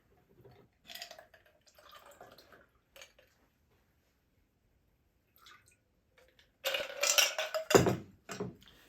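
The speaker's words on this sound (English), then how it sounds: "we pour." A Rob Roy cocktail pours briefly into a chilled coupe glass, a short splashy burst near the end after quiet handling noises.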